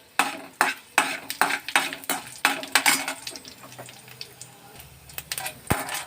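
Tempering spices and dried red chillies fry in hot oil for a coconut chilli chutney, with a run of sharp stirring clatters of a spoon on the pan over a light sizzle.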